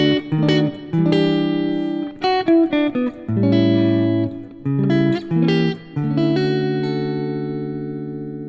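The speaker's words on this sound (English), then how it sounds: "maybe our chord progression would sound something like this." A neo soul chord progression on electric guitar with chromatic passing chords, clean tone with light effects, chords sliding and changing every beat or two before a final ringing chord fades out; no talk.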